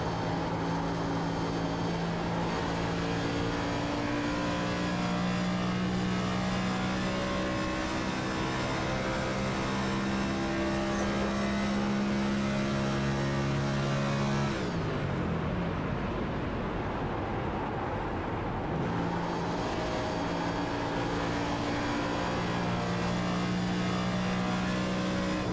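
A race car at Indianapolis Motor Speedway holds a loud, steady engine drone in fifth gear, with a clutch dip and throttle reapplied partway through, sustained and close throughout.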